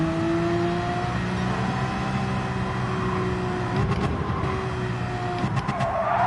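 A race car in Gran Turismo 7 braking hard into a hairpin, its engine holding a steady, loud drone that sags in pitch as it slows, with tire scrub and a couple of brief downshift blips near the end.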